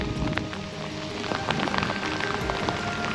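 Heavy rain pours near the Chenab railway bridge in Jammu and Kashmir, a dense, steady hiss of drops on surfaces with gusting wind, continuous and close throughout.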